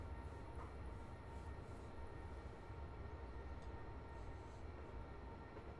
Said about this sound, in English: There's a train going by right there